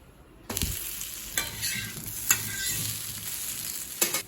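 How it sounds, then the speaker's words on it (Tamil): A multigrain dosa sizzles on a hot pan with oil after being flipped, a soft steady frying hiss broken by a few sharp scrapes and taps of the turner. "இப்போ தோசை ஒரு சைடு வெந்துருச்சுங்க, திருப்பி போட்டுக்கலாம்."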